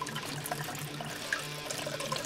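Broth from vegetables squeezed hard through cheesecloth, a close continuous splashing trickle of liquid running into a pot for a couple of seconds.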